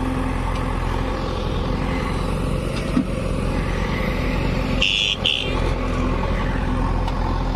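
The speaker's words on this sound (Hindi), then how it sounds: "ट्रैफिक भी निकल रही है काफी" Road traffic passing on a busy road where a JCB is working nearby, a loud continuous engine rumble and hiss throughout, with a brief high horn-like tone near the middle.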